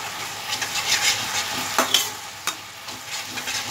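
Spices get stirred into food frying in a pan, a steady sizzle broken by a few sharp scraping strokes of a spoon, close and fairly loud with no speech.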